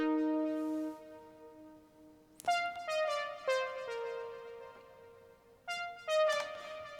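A Roland synth patch called Fat Sauce 3 Modified plays a short melodic line of sustained, bright, buzzy notes that glide between pitches, heard alone at moderate volume.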